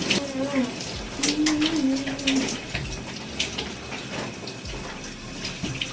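Shower water runs in a steady broad hiss, with some faint background sounds mixed in.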